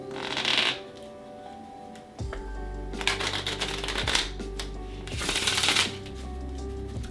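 Three crisp riffle shuffles of an over-50-year-old Jerry's Nugget deck of playing cards, each a quick fluttering burst, separated by softer bridging clicks and handling noise.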